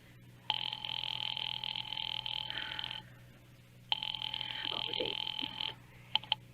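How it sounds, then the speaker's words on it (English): Old-fashioned telephone bell ringing in a classic radio drama, two long trilling rings separated by a pause, then a few short clicks, loud and alone. "Ringing the police department."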